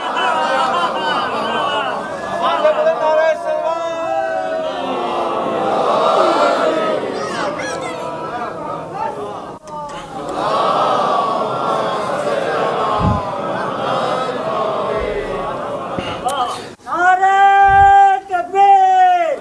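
A large congregation at an imambargah majlis shouts religious slogans back in unison, filling the space with loud, sustained waves of massed voices that swell and break off, followed by a few strong chanted calls near the end.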